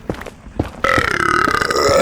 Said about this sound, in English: I can burp on purpose.